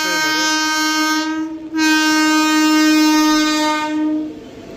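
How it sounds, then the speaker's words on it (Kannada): A passenger train pulls in on a new line amid heavy rain, its horn blaring loud and sustained with one brief break, wheel clatter and rumble underneath. "ಟ್ರೈನ್ ಬರ್ತಾ ಇದೆ ನೋಡಿ"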